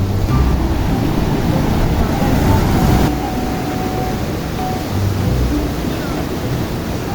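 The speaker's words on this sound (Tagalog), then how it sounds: "Guys, oh, ang lakas ng agos." A river runs high with a strong current, its rushing water a loud, continuous roar that stays close throughout, with a faint voice at times.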